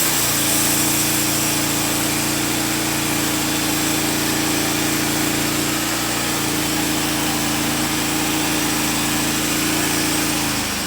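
A sawmill engine drones steadily while the blade cuts through a black walnut log, a loud continuous whine and rumble with a slight shift in pitch midway, no voices over it.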